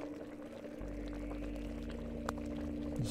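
Water is poured into a pot and set to boil, a soft low gurgling rumble with a faint steady hum, quiet and close, with no speech.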